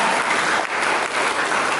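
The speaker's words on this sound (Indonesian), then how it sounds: "Berikan tepuk tangan bagi Tuhan." Church congregation bursting into loud, sustained applause during a sermon, a thick, continuous patter of many hands clapping close and full, with no voices above it.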